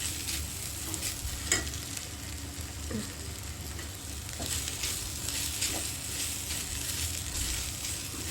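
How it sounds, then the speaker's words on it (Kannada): Okra and green chillies fry in a pan with a steady, continuous sizzle and stirring scrapes, close and fairly loud, with no voices. "ಇದನ್ನು ಒಂದು ಟೂ ಮಿನಿಟ್ಸ್ ಫ್ರೈ ಮಾಡಿರಿ"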